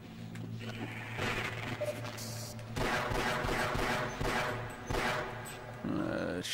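Rapid gunfire bursts from Half-Life on the PlayStation 2, dense overlapping shots over a steady game hum, with other in-game sounds mixed in.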